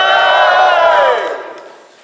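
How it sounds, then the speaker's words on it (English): Crowd at a Transformers fan convention letting out a loud, sustained scream and shout, then tapering off and fading over the last second. "scream and shout."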